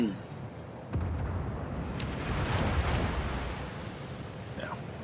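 Naval gunfire from a World of Warships battle, with the Shimakaze destroyer under blind fire: a sharp boom near the start, then a dense, low rumbling barrage and distant blasts rolling on under faint background noise.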